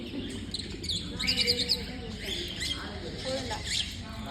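Birds chirp and tweet in short bright bursts at a bird park while people talk nearby, the calls partly under the voices.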